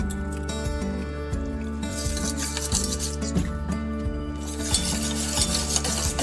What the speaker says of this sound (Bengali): এবার আমি অল্প অল্প জল দিয়ে ব্যাটারটা গুলে নেব।